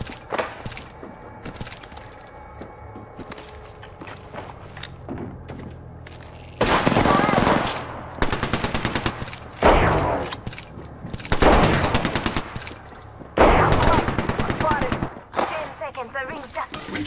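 Apex Legends gameplay with loud bursts of video game gunfire erupting in several separate volleys after a quieter stretch, each volley sharp and rapid, close and dominant.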